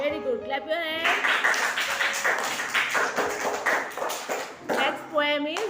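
Children clap their hands in a nursery classroom, a run of quick, fairly close claps that blend into a steady patter, with a teacher's voice heard at the start and end.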